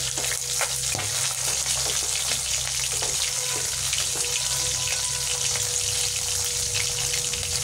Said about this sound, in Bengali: আমি মাছ ভাজার এই তেলটাতেই আবার মাছ দেবো।